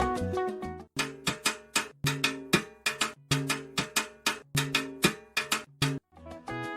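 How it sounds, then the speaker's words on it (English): Full salsa cascada percussion pattern over a 3-2 clave: cowbell, clave and drum strokes in a steady syncopated groove, loud and close, with no talking, breaking off briefly near the end. "if the clave is using a 3-2 direction, then this is how the full cascada pattern sounds."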